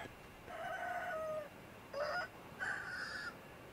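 Rooster crowing in the Sekiro video game, three separate call phrases in quick succession, clear and moderately loud over a faint background with no talk.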